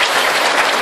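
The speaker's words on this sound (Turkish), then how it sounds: "Alkış istiyorlar." Audience at a Turkish folk show (Çardak performance) clapping, a loud, dense burst of applause nearby that runs unbroken for under a second.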